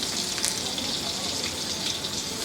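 Eggplant slices frying in hot oil in a pan, a steady dense sizzle and crackle running without a break through the whole moment, close and fairly loud, with no talk over it.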